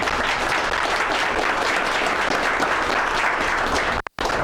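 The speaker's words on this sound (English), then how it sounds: "please give our panelists a round of applause" Steady, dense applause from a live audience for a panel of speakers, loud and sustained for several seconds before it cuts off abruptly near the end.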